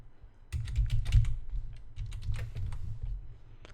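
Login details are typed on a computer keyboard in quick, uneven bursts of close keystrokes, with a short pause partway through.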